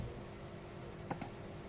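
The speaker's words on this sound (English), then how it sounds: "Again I have to type END." Two quick clicks from a computer keyboard while entering a drafting command, sharp and close over a steady low hum.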